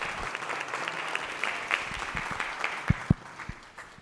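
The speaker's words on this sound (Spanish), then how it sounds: "le brindamos un fuerte aplauso" An audience gives steady, dense applause for a speaker at a conference on desertification. It is mid-level and continuous for several seconds, with a few louder individual claps standing out near the end.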